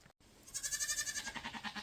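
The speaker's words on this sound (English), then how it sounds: "That's one goat in there." A goat on a small farm gives one long, wavering bleat with a quick pulsing tremble, close and fairly loud, after a brief moment of quiet.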